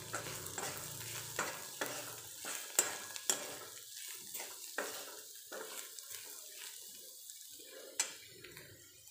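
Tomato chutney sautéed in a pan: a soft sizzle broken by repeated scraping strokes of a spatula in a loose rhythm, with a few sharp metal clinks.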